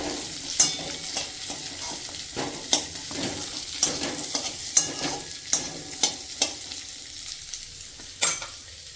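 Diced onions frying in an oil-filled pan for chilli chicken, with a steady close sizzle and a series of sharp stirring scrapes and clinks spaced through it.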